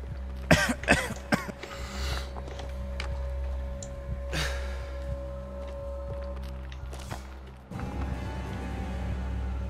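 A game character coughs and clears their throat several times in Maid of Sker, with sharp bursts early on, a hum running underneath and soft footsteps.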